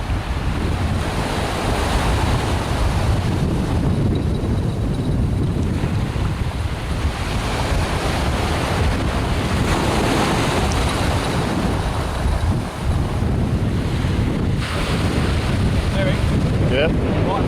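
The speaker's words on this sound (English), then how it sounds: "What's that wave?" Sea waves breaking on a beach at Fuerteventura in the Canary Islands during shore fishing, a constant loud roar of surf mixed with heavy wind buffeting the microphone throughout.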